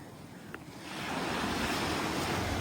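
Sea waves break on the shore, the surf swelling from a softer wash into a loud, continuous roar with wind buffeting the microphone nearby.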